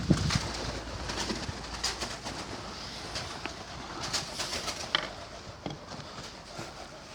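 Pigeons in a breeding loft give soft, low cooing calls among scattered wing flutters and rustling, with a steady background murmur throughout and no talking.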